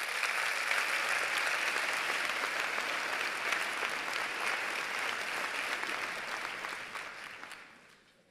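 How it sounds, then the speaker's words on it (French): An audience at a graduation ceremony claps steadily, a dense, even wash of applause sustained for several seconds before tapering off at the end. "Les voici, vous pouvez les applaudir."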